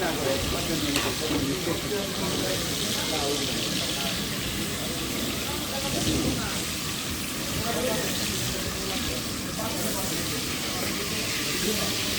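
Hilsa fish frying in a pan, a steady dense sizzle with stirring and water noise running throughout, with people talking underneath.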